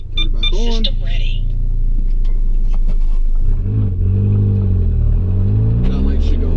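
A Volkswagen Golf R MK7 engine starts and then runs with a low, rising engine drone and rev, close and loud, while a voice talks over it.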